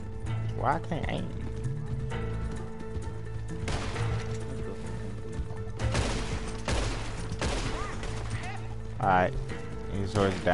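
Gunfire in Red Dead Redemption Online: bursts of shots from several shooters break out at intervals across a busy soundscape, loud and close, mixed in with a player talking throughout.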